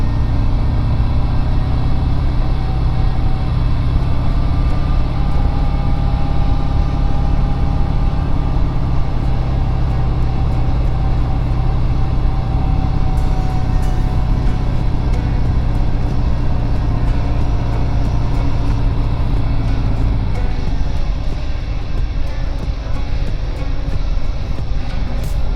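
Steady vehicle noise along Needles Highway, a constant broadband rumble and drone that runs loud and unbroken, easing slightly in its low end toward the close, with no voices.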